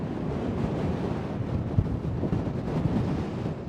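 Strong gusty wind buffeting a handheld microphone outdoors at Schiphol airport, Amsterdam, a loud continuous low rumble and roar with no pause.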